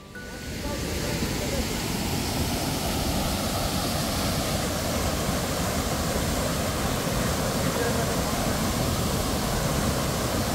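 Double Drive waterfall in Cherrapunji, Meghalaya roars with dense, steady rushing water, loud and close, filling the whole stretch without a break.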